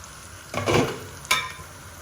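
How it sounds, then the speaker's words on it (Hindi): Tomatoes cook in a pan for dhaba-style aloo gobi: a brief burst of sizzling and stirring, a short pause, then a second quick scrape, all quiet and close. "टमाटर डालकर हम इसे 2 से 3 मिनट के लिए ढक देंगे ताकि टमाटर गल जाए।"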